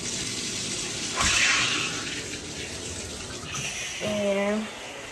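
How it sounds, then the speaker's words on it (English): A shower tap runs to warm the water before bathing, a steady rushing stream with a louder gush partway through, and a brief voice briefly heard near the end. "I'm gonna go ahead and warm my water."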